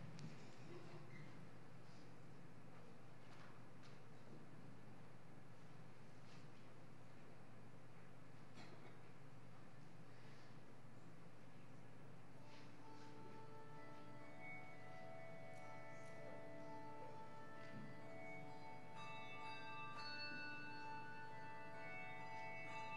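Handbells ring out a church prelude from the loft, the sustained pitched tones gathering toward the end over a quiet room, faint and somewhat distant.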